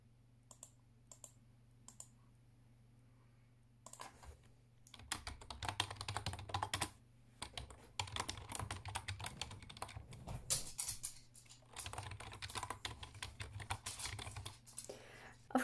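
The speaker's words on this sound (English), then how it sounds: "just when I start typing" Computer keyboard typing in a quiet room: a few isolated key taps, then a brisk, continuous patter of clicks with short pauses, close and fairly soft over a low background hum.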